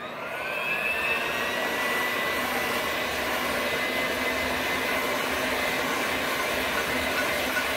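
Loud continuous electric whir of a mixer beating egg yolk with strained bacon liquid for baconnaise, steady and close throughout.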